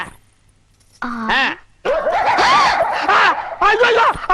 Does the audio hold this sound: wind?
no